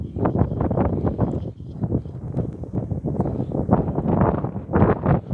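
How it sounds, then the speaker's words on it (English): Strong gusty wind buffets the microphone in loud, low rumbling bursts that continue throughout, with no other sound standing out. "It is windy, yeah."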